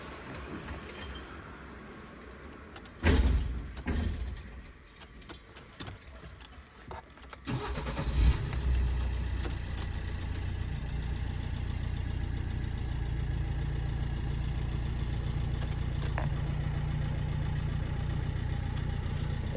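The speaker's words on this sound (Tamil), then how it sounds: "இப்போ ஒரு காரை ஸ்டார்ட் பண்ணி பார்ப்போம்." A car's engine cranks and catches after a heater repair involving a flushed system, with loud starting bursts around the third and eighth seconds before settling into a steady, close, continuous idle rumble with no talking.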